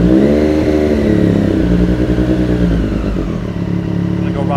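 A 2022 Triumph Street Triple RS motorcycle with a newly installed exhaust idles close by, a steady, loud, throbbing engine note that holds even throughout.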